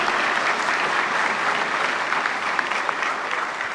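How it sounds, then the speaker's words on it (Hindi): An audience at a conference event gives a steady round of applause, dense clapping that holds evenly and fairly loud from start to finish with no one speaking over it. "एक बार जोरदार तालियां"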